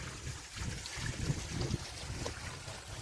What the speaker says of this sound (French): vous avez l'eau qui tombe dans la grille